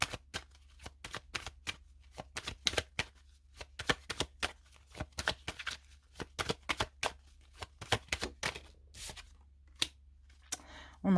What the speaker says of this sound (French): Je vais essayer de mettre une autre carte dessus.